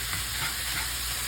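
Sausage frying in a pan for a stromboli gives a steady, close, broadband sizzle with a faint stirring texture and no voices.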